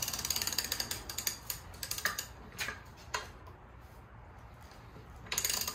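A hand ratchet tightens the rear wheel bearing bolts on a Porsche 911SC, giving quick bursts of close metallic clicks that pause between strokes.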